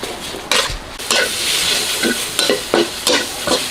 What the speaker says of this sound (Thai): เดี๋ยวเราจะเอาน้ำมันจากเนื้อเนี่ยแหละครับ นี่ เราไม่ต้องใส่น้ำมัน คั่วให้หอม